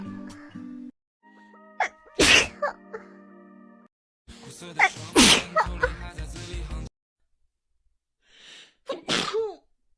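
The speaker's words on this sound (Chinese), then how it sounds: "上来就打喷嚏是吧？" A young woman gives several wet allergy sneezes, loud and close, set apart by quiet breathing and a short spoken remark.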